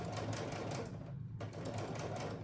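A sewing machine stitching through quilt batting, a fast steady mechanical chatter up close with one brief pause before resuming.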